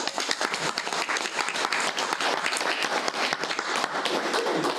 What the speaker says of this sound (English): I want to give her an applause,